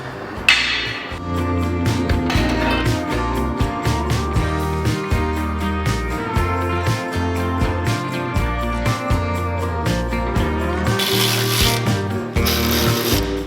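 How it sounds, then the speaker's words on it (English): Screws being removed from a TeraFlex hinged tire carrier on a Jeep JK, with a continuous mechanical whirr and grinding of a tool running on metal, close and loud, with brief pauses and bursts throughout. "I have to go ahead and take off all of the screws"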